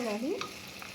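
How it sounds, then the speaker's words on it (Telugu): Curry masala for a pulao and chapati gravy frying and being stirred in a pan: a brief scrape of the spoon over a steady soft sizzle, close and alone. "కొంచెం ఫ్రై అయ్యిందండి, ఇంకా ఫ్రై అవ్వాలి"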